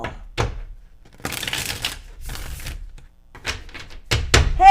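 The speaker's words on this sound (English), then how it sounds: "I'm shuffling it for the first time. Hear that? That's a first shuffle." Tarot card deck being shuffled for the first time, giving short bursts of riffling, flapping card noise broken by quiet gaps, close and fairly loud.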